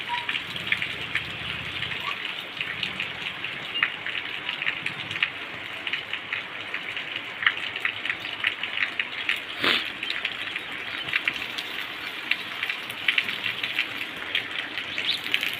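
Gentle rain falls steadily in Koba village, a continuous soft hiss of drops with occasional sharper taps and one brief louder crack, heard alone without talk.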